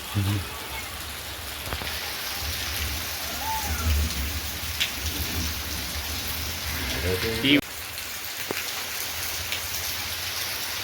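Heavy rain pours down steadily on surfaces in a constant wash of noise, with a few brief knocks and faint voices low in the background.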